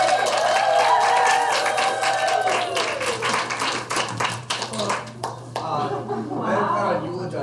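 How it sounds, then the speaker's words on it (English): Audience at a roast and toast event clapping in scattered, uneven bursts, mixed with music and voices, some chuckling, and a busy room tone. "Everybody give a round of applause."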